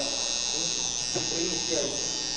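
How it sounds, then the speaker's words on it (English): A Wahl Vanish electric shaver runs with a steady, close, high buzz at a barber training event, while people talk over it. "So this is the new shaver that we have in the range."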